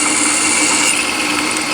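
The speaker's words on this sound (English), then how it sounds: "and I'll drill right through." A milling machine drills through a metal part, giving off a steady, loud, high-pitched whine and grinding hum that holds constant throughout with no talking.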